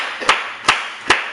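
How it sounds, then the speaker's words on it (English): A grown man claps his hands three times, each a sharp, close smack at a steady, unhurried rhythm, with a faint hum underneath. "clapping his hands?"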